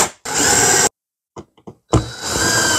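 A power drill drives Spax Torx screws into a metal gate frame for wooden gates, with two loud whirring bursts and a few short clicks and taps between them, recorded up close.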